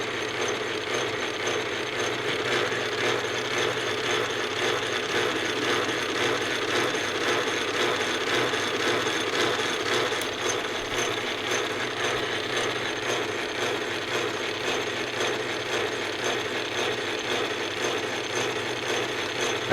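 An old Atlas lathe cutting a thread on a bolt runs with a steady mechanical whir and a fine repetitive ticking of gears and lead screw, continuous and close for the whole stretch with no voices.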